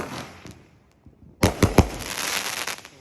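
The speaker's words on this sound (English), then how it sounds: "Master 23 shot Pro Fireworks." A Master Cheu 23-shot 500g consumer firework cake goes off: after a fading crackle and a short lull, a rapid string of loud, sharp bursts erupts, followed by dense sustained crackling, with no voices.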